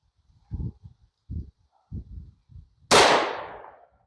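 A single sharp report from a .357 SIG pistol firing DoubleTap 115-grain lead-free ammunition at an outdoor range, loud and close with a decaying tail, following several low thuds or muffled footsteps.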